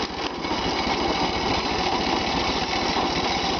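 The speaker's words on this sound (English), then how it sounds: "Come on, old engine." An old tractor engine with a 4-speed gearbox and an unpressurized radiator runs steadily close by, a loud, continuous mechanical chugging with a fast regular pulse and no pauses.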